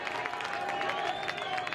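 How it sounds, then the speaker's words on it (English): A stadium crowd at a U.S. Open Cup soccer match, Greenville Triumph against One Knoxville SC, gives off a steady low roar of cheering and clapping, with a whistle-like tone drifting over it. "It's the crowd into it a little bit here."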